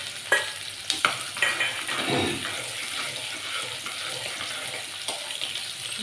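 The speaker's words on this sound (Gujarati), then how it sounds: "ડુંગળીને આપણે બ્રાઉન કલરની થવા દઈશું" Onion crackles and sizzles in hot oil in a pan with bay leaf, peppercorns and cinnamon, a moderate, steady frying hiss broken by a few sharp clinks and stirring scrapes.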